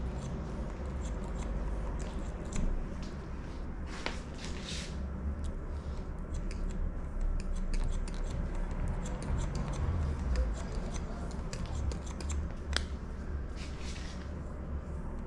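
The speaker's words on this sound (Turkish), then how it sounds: "tarakla makasın her noktasını kullanıyorum" Scissors snip through hair during a layered haircut, with a comb worked alongside, giving faint, close, irregular light clicks and snips over a quiet room background with no talking.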